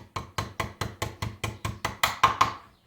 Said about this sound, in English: Here I have a plastic tipped hammer.